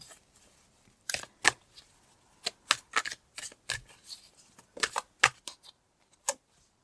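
Tarot cards pulled from a deck and shuffled, sounding as a series of crisp, close slaps and riffles in irregular bursts, with faint handling noise and no talking.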